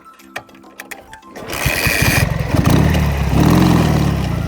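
A Ukrainian motorcycle engine with low oil pressure and thin oil starts with sparse clicks, then runs loud and close with a rapid, uneven knocking rattle that rises as it revs.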